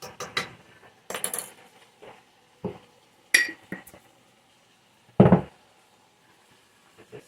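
Scattered clinks of a utensil against a pan while flour is stirred into shepherd's pie filling: several separate metallic taps and scrapes, close and fairly sharp, with quiet gaps between them.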